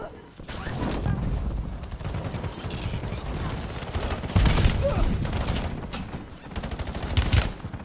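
Heavy exchanges of gunfire in a Call of Duty Warzone battle royale match, sustained bursts and overlapping shots at close range, loud and continuous with a few sharper reports standing out.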